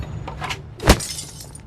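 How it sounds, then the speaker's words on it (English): A glass bottle smashed over a man's head in Beyond a Steel Sky 2 gives one sharp, close shattering crack near the middle, followed by a brief tinkle of falling shards, with a few faint knocks just before it. "I smashed the bottle over the guy's head."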